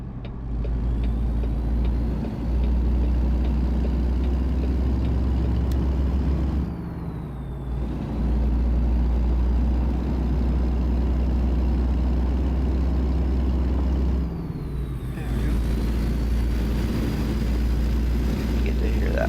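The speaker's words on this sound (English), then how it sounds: "You get to hear that nice sound of the engine." A vehicle engine runs loud and steady with a deep constant rumble and a high whine that drops and climbs again at two shift-like breaks, continuing throughout without pause.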